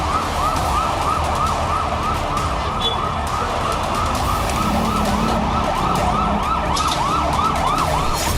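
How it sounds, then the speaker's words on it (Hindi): Emergency sirens wail in repeating rising-and-falling cycles across Beirut's Dahiyeh district after an explosion, loud and continuous over a dense rumble of traffic and crowd noise. "धमाके के 3 मिनट बाद बेरूत के दाहिया इलाके में सायरन गूंजने लगे"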